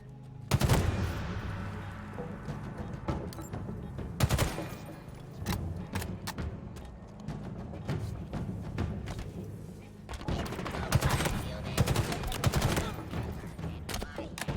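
Sniper and gunfire in Halo Infinite come as loud cracking shots and rattling bursts, some clustered and some spaced apart, with quieter stretches between the heavier volleys and voices talking underneath.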